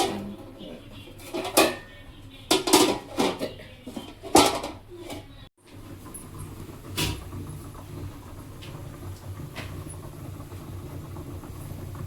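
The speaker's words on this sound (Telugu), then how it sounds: "దీని మీద ఒక మూత, మళ్ళీ దీని మీద ఒక మూత" Metal lids are set onto cooking pots in a home kitchen, giving several separate clanks and clatters at irregular intervals against a quiet background.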